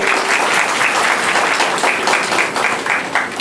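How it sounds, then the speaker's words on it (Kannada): A crowd at a Bharatanatyam event breaks into steady, loud applause, dense clapping that holds at an even level for several seconds without letting up. "ಬಿಗ್ ಚಪ್ಪಾಳೆ"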